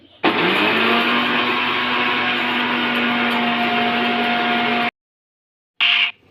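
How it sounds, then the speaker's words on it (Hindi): An old heirloom kitchen mixer grinds tea masala spices such as cinnamon and cardamom, a loud steady whirring roar with a motor hum for about five seconds, a brief pause, then a short second burst. "ये हमारा पुश्तैनी तो मिक्सर है, और आवाज इतनी ज्यादा करता है गाइस।"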